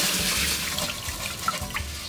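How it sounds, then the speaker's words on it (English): Warm tap water runs steadily from a faucet into a sink or bowl for washing rice, a continuous close splashing hiss with small drips and no talk. "Let's get some warmer water."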